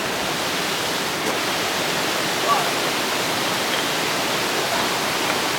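A steady, full roar of falling water, constant and close, with no other sounds standing out.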